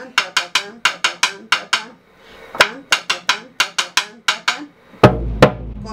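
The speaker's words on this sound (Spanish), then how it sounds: "marcar el tiempo con la mano izquierda" Hand strokes on a cumbia drum in a steady pattern: sharp, loud slaps repeating in quick pairs and groups, a brief pause midway, then heavier, deeper open strikes at the end, played alone without talk.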